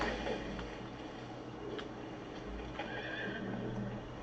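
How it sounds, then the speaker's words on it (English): A horse in Far Cry 6 whinnies faintly in a wooded area, with soft hoof clip-clops and a low ambient rumble beneath, distant and quiet, no one talking. "Soldados train their horses in these woods."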